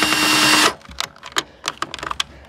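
A power drill whirs steadily for under a second while a PC is being assembled, then cuts off, leaving quieter clicks and small handling noises.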